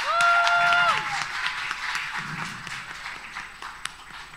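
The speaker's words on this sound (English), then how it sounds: "Let's give our kids a clap." A church congregation at a Sunday service claps for the children, a moderate burst of clapping that starts strong and fades over a few seconds, with some murmuring and a whistle-like tone near the start.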